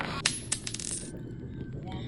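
Metallic clinks and a short ringing tone from screws being pulled out of wooden planks in a cursed-mansion horror video game: a few sharp taps early, then quieter tones that fade to a faint hum.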